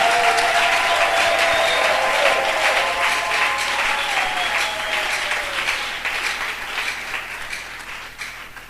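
A church congregation at a Sunday service applauds, steady dense clapping that fills the room and slowly fades toward the end, with a voice faintly audible underneath.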